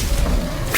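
A single quick whip-like thump with a rushing swish, fired off as the Erumpent spell in the mobile game Harry Potter: Magic Awakened. It is brief, loud and close, under a second long.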